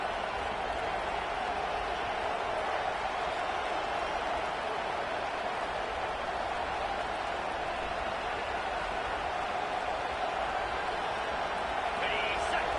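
A big stadium crowd cheers in an American football video game, a steady, continuous roar that holds at an even level throughout with no clear peaks, loud and unbroken.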